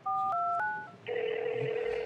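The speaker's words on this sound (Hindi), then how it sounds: "कॉल मिलाएं जी खान साहब को।" A telephone number is dialed, heard as a quick series of short paired keypad tones followed by a steady ringback tone, clear and fairly faint, with no talk.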